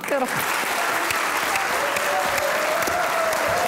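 Studio audience at a comedy show breaks into loud, continuous applause, a thick close roar of clapping with faint voices and a brief tone beneath.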